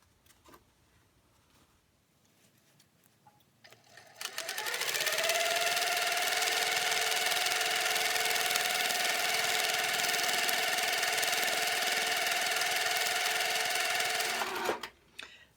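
A sewing machine stitches a cowboy boot quilting pattern in one long, steady, close whirring run lasting about ten seconds, starting up after a quiet stretch and stopping cleanly at the end.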